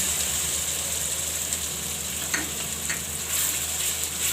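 Onion frying in oil with chilies and asafoetida, a steady close sizzling hiss broken by a few faint stirring clicks, heard alone without voices.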